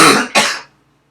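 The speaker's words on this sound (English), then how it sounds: "Excuse me, I'll have to cough." A man coughs twice in quick succession, loud and close, the second hack sharper before the sound falls to silence.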